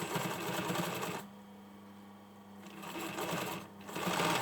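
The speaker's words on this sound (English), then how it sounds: "make sure I sew on top of this overlocking" A sewing machine runs in bursts while stitching the pinned 3 cm hem of a hoodie over overlocking, with a steady mechanical whir that pauses briefly and then resumes, close and clear.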